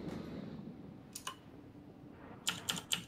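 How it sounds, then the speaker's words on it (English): Computer keyboard typing in short bursts: a quick cluster of clicks, a pause, then a sharper run of several distinct keystrokes near the end, fairly close over faint room noise. "Oh, is it you, Bolt, that's typing?"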